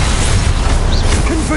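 A Confringo fire spell blast in Hogwarts Legacy, a loud booming burst with crackling pops filling a short, dense stretch of game sound, a voice faintly present.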